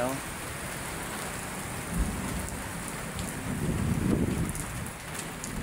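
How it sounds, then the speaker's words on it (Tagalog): Heavy rain pours down at Manila Bay in a constant roar, with a low rumble of thunder swelling partway through. "Lakas ng ulan"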